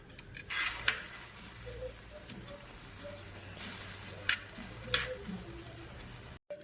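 Soaked rice dry-roasted in a pan for a Margashirsha Thursday offering, with quiet scraping and stirring from a utensil and a few sharp metallic clinks standing out over a low, steady background.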